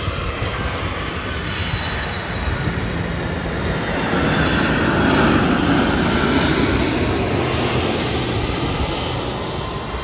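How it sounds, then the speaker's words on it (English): An airplane comes in for a hard landing, its engines a loud, steady broadband roar that swells slightly midway and holds close and continuous throughout. "Oh, that was a hard landing."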